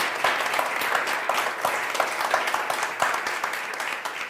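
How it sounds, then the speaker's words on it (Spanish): An audience at a lighting-industry talk applauds steadily, a dense, even wash of many hands clapping at moderate distance with no voices over it. "pido un aplauso por todo lo que nos han transmitido"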